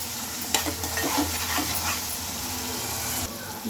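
Chicken curry gravy with tomatoes being stirred and fried in a pan: a steady close sizzle runs throughout, with scraping stirs and a sharp utensil knock near the start, no voices.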